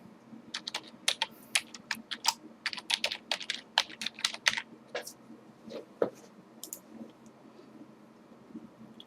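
Rapid typing on a computer keyboard while entering an eBay login entry into the KeePass password manager: a dense burst of sharp key clicks that thins out into a few scattered taps, close and clear over a faint low hum.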